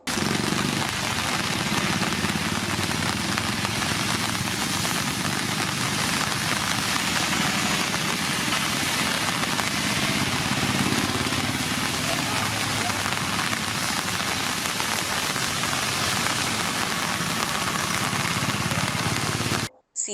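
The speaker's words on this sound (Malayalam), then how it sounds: "മണ്ണാർക്കാട് മേഖലയിലും ശക്തമായ മഴ" Heavy monsoon rain in the Mannarkkad area of Kerala pours down in a dense, steady roar that stays constant throughout, then cuts off abruptly at the end.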